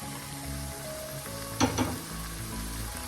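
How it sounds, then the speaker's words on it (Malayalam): Masala spice powders fry in hot oil with softened onions for a Malabar-style chicken curry, giving a quiet, steady sizzle with a brief stirring scrape in the middle. "ഈ എണ്ണയിലൊന്ന് മൂപ്പിക്കും"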